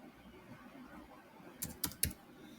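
Keys tapped on a computer keyboard while entering a one-time password, a few quiet scattered clicks near the end over a faint room background.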